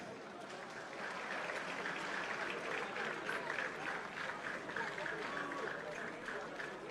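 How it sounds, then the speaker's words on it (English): An audience at a national science and maths quiz grand finale applauds for St. Augustine's College, a steady even wash of clapping heard from a distance at moderate volume. "Ladies and gentlemen, a round of applause to St. Augustine's College"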